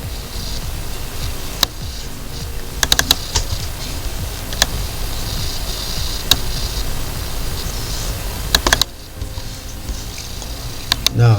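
Keys on a computer keyboard are tapped in scattered single clicks and short bursts while letters are typed in Photoshop, sharp but fairly quiet over a steady background hiss.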